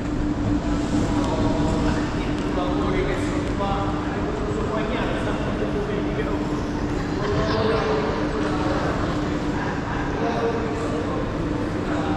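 Rumbling rail noise with a steady mechanical hum and clatter, a train moving through a station in Rome, with people talking over it.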